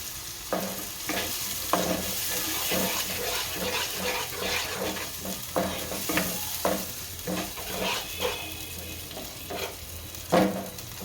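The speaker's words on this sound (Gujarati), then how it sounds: "આ કાંદા સરવાઈ ગયા છે, તો ગ્રેવી બનાવી નાખી દઈએ અને હલાવી નાખશું" Onion gravy for Gujarati papad shaak stirred in a pan: a spoon scrapes again and again in an uneven rhythm over a steady, close sizzle, with no voices.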